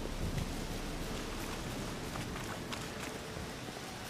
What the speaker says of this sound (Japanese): ああでも雨の量はすごいね。